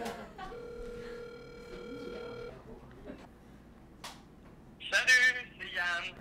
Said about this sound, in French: J'appelle mon ami avec qui je m'ostinais sur le thermostat, Yann Vallière.